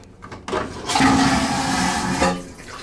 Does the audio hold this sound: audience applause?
no